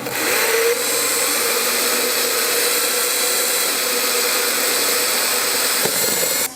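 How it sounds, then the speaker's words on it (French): A power drill fitted with a wood bit bores through a baseboard while engineered floating parquet is being installed, giving a loud, steady, close-up motor whine that runs almost unbroken for the whole stretch, with no talking. "Donc je commence par percer la plinthe après avoir opéré."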